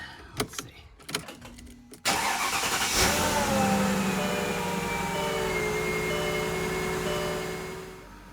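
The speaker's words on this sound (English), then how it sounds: "With the new plugs and wires, the car is idling much smoother." A Mercedes W220 S-Class with new spark plugs and wires clicks and rattles briefly, then settles into a steady, close engine idle that holds smooth and even to the end.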